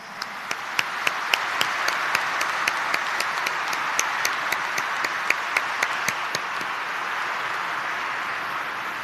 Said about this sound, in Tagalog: Sa mga hindi natatakot at sa mga nilalakasan ng loob, pumalakpak muli ng malakas